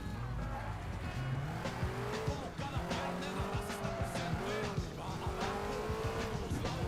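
Speedy car in the video game Crackdown driving hard, engine revving with repeated tire squeals and skids in quick succession, close and continuous, with a voice talking faintly underneath.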